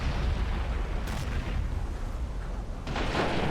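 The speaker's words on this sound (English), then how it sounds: "let's get some walking Stukas firing up" Walking Stuka rocket artillery fires in the Men of War: Assault Squad 2 video game, a continuous roar of rocket launches and booming blasts with two sharper bursts, loud and close; no speech.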